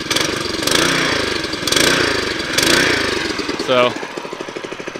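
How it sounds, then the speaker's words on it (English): A Hammerhead Mudhead 208R off-road go-kart engine starts right up and runs with a steady, loud close mechanical chug, the revs swelling and dropping a few times, while someone talks over it. "Go ahead and turn it on. Fires right up."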